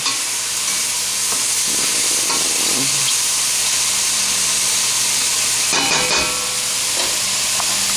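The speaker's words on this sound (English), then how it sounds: "the mushrooms are cooking down really nicely right now" Mushrooms sizzle and hiss steadily in a hot pan for cream of mushroom soup, a constant loud frying crackle with occasional stirring scrapes.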